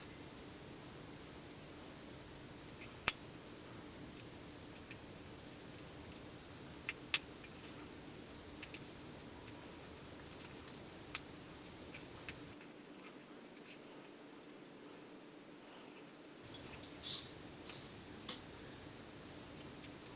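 Scissors snip pieces out of a sheet of paper to make a paper snowflake, giving quiet, sparse, irregular clicks and crisp cuts over a faint background, with no voices.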